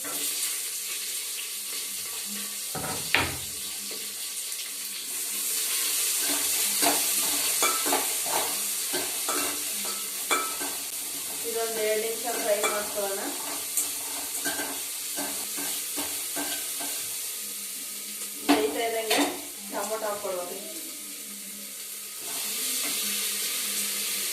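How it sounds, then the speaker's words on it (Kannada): Mustard seeds, bay leaf, onion and capsicum sizzle in a hot pan of oil as they are stirred, a steady frying hiss broken by repeated scraping and clinking of a spoon against the pan, close and without talk. "ಸಾಸಿವೆ ಜೊತೆಗೆ ಪಲಾವ್ ಎಲೆ ಈರುಳ್ಳಿ ಕ್ಯಾಪ್ಸಿಕಮ್ ಹಾಕ್ತಾ ಇದ್ದೀನಿ"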